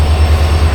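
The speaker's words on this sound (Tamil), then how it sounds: "அந்த ட்ரெயின் தான் இது" A train passes close by near Dudhsagar waterfall in the monsoon, making a loud, continuous low rumble and roar with no break.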